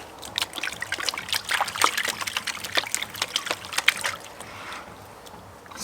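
Crushed gold ore swirled in a pan with water makes close, crackling trickles and sloshing splashes, busier at first and then easing off into quieter dribbling, with no talk.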